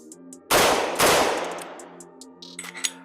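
Two loud rifle shots through a Witt Machine muzzle brake crack half a second apart close by, each blast ringing out and decaying over a couple of seconds, followed by brief faint voices.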